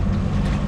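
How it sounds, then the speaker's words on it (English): A sailboat's inboard engine drones steadily while motoring under bare poles, a low continuous rumble mixed with wind buffeting the microphone. "So the sails are away and the engine's on to get us there on time."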